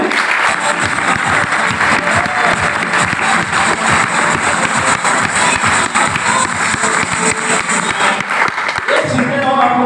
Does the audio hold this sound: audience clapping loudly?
yes